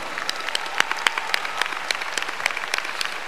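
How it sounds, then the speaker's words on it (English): Applause from a gathered audience honoring former student government leaders at FAMU, a dense, steady patter of many hands clapping at moderate distance with no talk over it. "Let's give them a round of applause."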